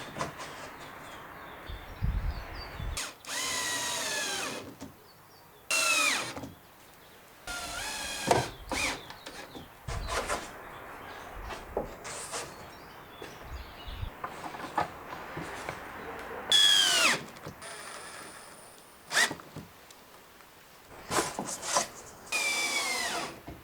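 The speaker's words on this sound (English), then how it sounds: "space the plank, drill it in place, and then I can take this out again." Power drill driving planks into place during an amateur DIY wood assembly with 6mm MDF spacers, heard as several short, loud whirring bursts separated by pauses and light handling knocks, with no talking.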